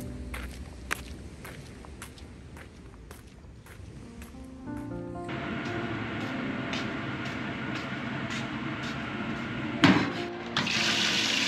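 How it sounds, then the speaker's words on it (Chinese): At a campsite, a tap runs while dishes are washed. Light taps and clatter come first, then a strong jet of water gushes in with a loud, steady rush, broken by a brief splash near the end. "水柱巨炮嚟嘅，水压咁大，弹到我都湿埋啊！"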